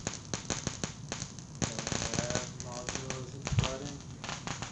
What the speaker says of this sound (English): when the air slams back after that arc goes across, after that current goes across, when the air slams back, that's the sound you're hearing.